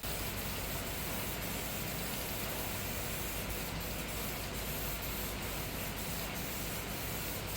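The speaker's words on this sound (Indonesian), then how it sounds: "tinggal kita semprotkan. Jarak semprot sekitar 15-20 cm. Di sini akan kita semprot tipis terlebih dahulu" A spray can of Diton Chassis Black anti-rust coating hisses steadily from about 15–20 cm away as a thin first coat goes on, one continuous, fairly loud, unbroken spray with no voices.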